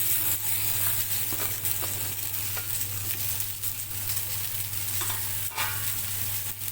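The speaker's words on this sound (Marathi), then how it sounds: "आता मी कांदे भाजून घेणार आहे" Onions roasting in oil in a pan, a close steady sizzle with intermittent stirring scrapes and a low hum underneath, no talking.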